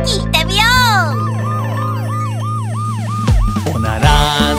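A loud police car siren wails, sweeping up and down repeatedly in a steady cycle, close and prominent, with engine hum underneath and a few other sounds near the end.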